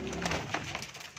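A single pet pigeon, a teddy hen with onion-coloured eye rings, gives a short, close, rolling coo.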